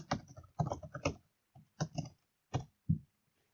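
Code is typed on a computer keyboard in short bursts of clicky keystrokes separated by pauses, close and quiet, with no talking.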